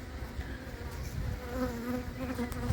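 A steady, low buzz of many honeybees crowding onto a queen cage close by, a continuous droning hum with slight rises and wavering pitch.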